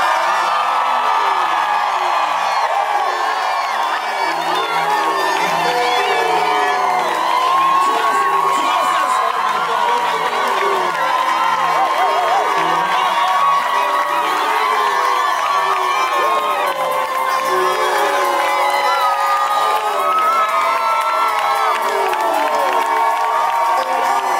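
A large crowd shouts and whoops with joy, continuous loud cheering and cries filling the whole stretch, at a lively religious gathering.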